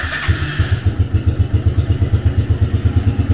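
A 1987 Suzuki LT300E ATV engine idling close by, its steady rapid low thumping pulse loud and even throughout.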